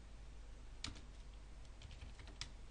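Quiet, steady typing on a computer keyboard while writing code in the VBA editor, soft rapid keystrokes with a few slightly louder taps, no voice.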